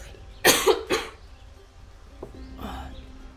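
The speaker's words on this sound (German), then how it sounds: "Ich hoffe, der letzte Husten verschwindet auch bald." Two close, loud coughs in quick succession, followed by a fainter third cough a couple of seconds later, over a quiet background.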